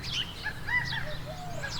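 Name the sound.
birds chirping outdoors on a spring trout trip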